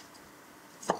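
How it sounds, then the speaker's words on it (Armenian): A knife chopping smoked bacon into cubes on a board gives a single short, close chop near the end of an otherwise quiet stretch. "հիմա ինձ մոտ ապխտած բեկոն է, իրեն խորանարդաձև կտրատում եմ"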